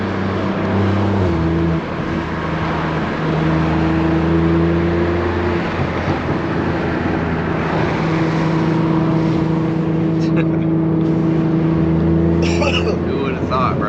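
BMW G80 M3 with a catless downpipe and full titanium straight-pipe exhaust, driven hard: a loud, steady drone with shifting revs and brief surges, heard from inside the car while people talk over it.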